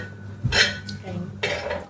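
Raw chicken pieces go into a metal cooking pot for chicken curry, making a couple of sharp clattering knocks and scrapes against the pot, close and moderately loud.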